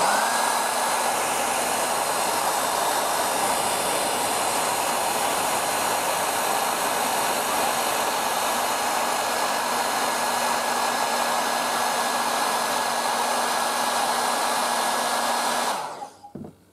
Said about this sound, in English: let's test the Hachiki detector with a hairdryer.